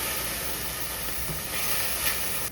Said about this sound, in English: Just a little bit of water to the pan.